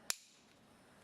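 A single sharp film slate clapperboard snap on a film set, loud and close, followed by a quiet room tail with no talk.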